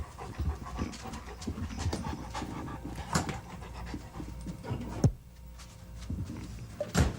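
A dog pants quickly and steadily close by, with a few soft thumps and shuffling steps mixed in. Nobody talks.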